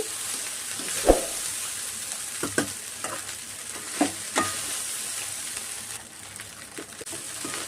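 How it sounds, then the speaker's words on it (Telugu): Egg fried rice is stirred in a frying pan, street-cart style: a steady close sizzle with scraping strokes of a spatula and a few sharp knocks against the pan, with no talking. "ఇప్పుడు ఒకసారి మొత్తం కలుపుకుందాము బాగా కలుపుకోవాలి ఒకసారి"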